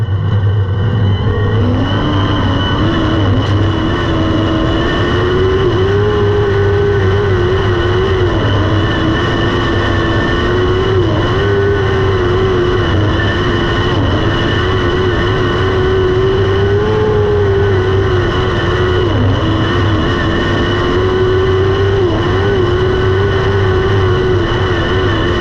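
A lightning sprint race car runs laps at Lemoore Raceway, its engine snarling loud and close without a break, the pitch rising and falling through acceleration and corners.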